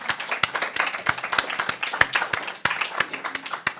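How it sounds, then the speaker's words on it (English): A seated church congregation gives a round of applause at a Sunday service, with sharp, fairly close individual claps ringing out in a lively, uneven rhythm that stays steady throughout. "let's give them a round of applause, please"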